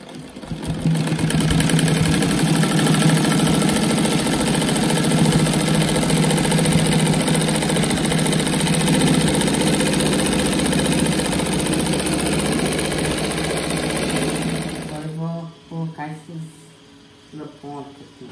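A sewing machine stitches a French-braid rag rug with a loud, steady whir for about fifteen seconds. It then stops, leaving quieter handling sounds.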